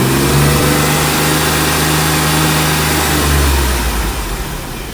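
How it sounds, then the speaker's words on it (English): A car engine revs during an alternator load test, producing a loud, close, sustained drone with a steady low hum whose pitch rises and falls slightly as the throttle is held over several seconds. "Rev engine while the loads are on."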